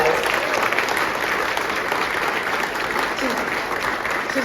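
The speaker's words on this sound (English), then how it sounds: "she deserves a big round of applause" An audience at a mining conference welcome address gives a sustained round of applause, with continuous, fairly loud clapping from many hands and some crowd murmur beneath.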